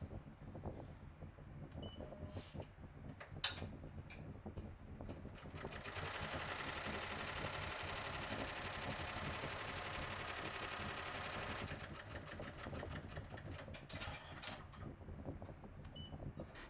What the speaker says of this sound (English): Now place your hoop into your machine and run the placement stitch on the stabilizer.